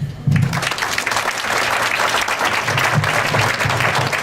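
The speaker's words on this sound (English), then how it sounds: "Let's give all of our speakers and Ms. Marcia another big round of applause there" Audience applause at a community college event in Kansas City, Kansas: a dense, steady round of clapping from a crowd, starting abruptly and holding loud and even throughout without talk.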